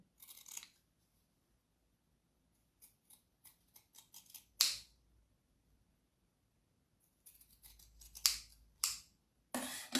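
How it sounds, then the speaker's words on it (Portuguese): Zigzag pinking scissors snip fabric around a rounded edge in short crisp bursts, quiet ticks and then a few louder crunching cuts close by, spaced irregularly with silent pauses between. "Vou aqui no redondinho dar aqui só uns piquezitos com a tesoura de zigue-zague."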